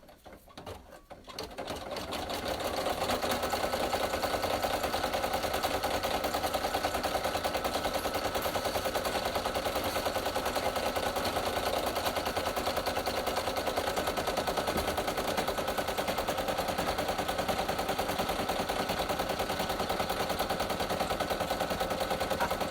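An embroidery machine stitches out mini coloring pages, a steady rapid mechanical chatter that starts up after a brief quiet moment and runs loud and continuous to the end, with no talk over it.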